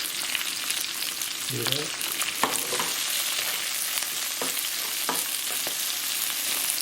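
Oyster mushrooms with young ginger stir-fried in a hot pan, a continuous close sizzle broken by scraping stirs and clicks, with a brief spoken remark over it.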